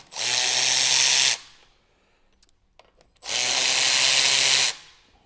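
Impact wrench on a 200 Series Land Cruiser / LX570 rear brake caliper, loosening the bolts: two loud, sustained bursts of whirring and rattling, each about a second and a half long, separated by a short quiet pause.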